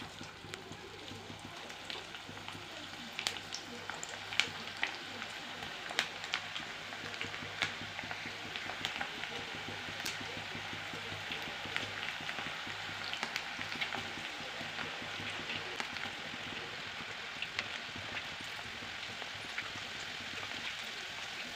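Okra fries in hot oil, giving a faint, continuous crackling sizzle with scattered tiny pops throughout and no voices.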